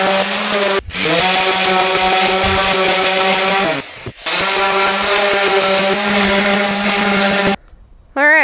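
A power sander works a wooden countertop with a loud, steady whine and briefly cuts out twice before running on. After a final stop the room goes quiet.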